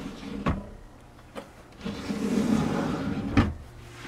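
A big, deep drawer built from scrap wood in a converted camper van rolls open or shut, a sustained muffled rumble framed by a few sharp knocks at the start and end, close by with no talking.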